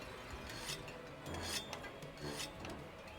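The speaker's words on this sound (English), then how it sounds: "I might as well sharpen while I wait." A whetstone sharpens a weapon in Monster Hunter World with repeated rasping strokes, several scraping passes in an irregular rhythm, fairly faint and with no voice over them.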